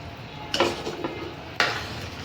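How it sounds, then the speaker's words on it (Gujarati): A spoon stirs fried pakoras into kadhi in a pot, making soft scraping and clinking sounds with two brief, sharper knocks over a faint background hiss. "બધું મિક્સ કરી દઈશું"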